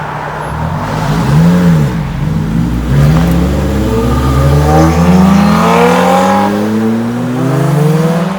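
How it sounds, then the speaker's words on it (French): Two small Lotus sports cars pull away one after another from a standing start at a Lotus dealer event, engines revving hard and rising through gears with sweeping pitch climbs, loud and close with no talk. "on va assister à un départ de 2 petites Lotus. Ils font un beau bruit quand même."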